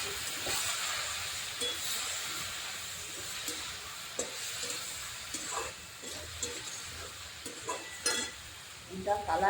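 Puti fish curry cooking in a pan with a little water gives off a steady sizzling hiss, broken by occasional scrapes and taps of a spatula being stirred through it.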